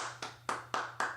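Four crisp hand claps at an even pace ring out close and clear at a college football watch party after a Clemson Tigers touchdown against Virginia Tech.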